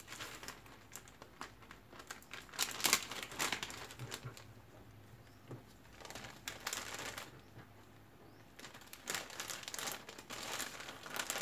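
A plastic bag holding banana leaves is handled and squeezed to push the air out, giving close, irregular crinkling and rustling bursts with quieter pauses between them.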